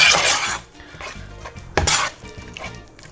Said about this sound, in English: Just make sure you stir all your ingredients in